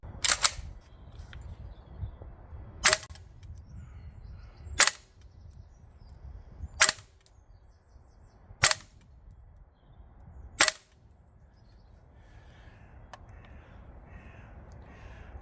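A Well Pro AK12 gas blowback airsoft rifle, running green gas and 0.25 gram BBs, fires six sharp, loud single cracks spaced about two seconds apart over a low outdoor background hum.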